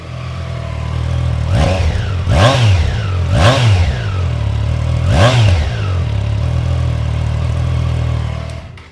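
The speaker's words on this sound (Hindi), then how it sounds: "अंडर बैली एग्जॉस्ट इसमें आता है आपका। थोड़ा सा इसको रैप करते हैं।" A Triumph 660 inline-triple motorcycle with an under-belly exhaust gives four sharp revs that rise and fall quickly, then settles into a steady, close idle.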